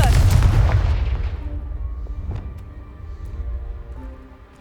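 A Confringo blasting spell detonating in Hogwarts Legacy, a single loud booming explosion that hits at once and then rumbles and decays over a few seconds with scattered debris clatter.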